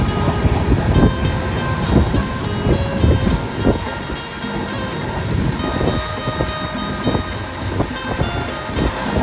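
Passenger train travelling at night on a long journey toward Chhattisgarh, a steady loud rumble of wheels and wind buffeting with recurring clacks, continuous throughout with no talk.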